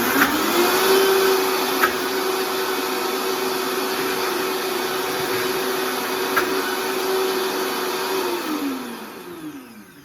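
A blender whirs steadily as it blends quinoa bread batter, a loud close motor drone that holds level for about eight seconds before winding down at the end, with no talking.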